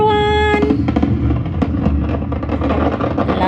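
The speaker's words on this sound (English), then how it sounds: "London fireworks always look nice." London New Year fireworks crackle and pop in a dense, continuous barrage, loud and close, with a short steady tone at the very start.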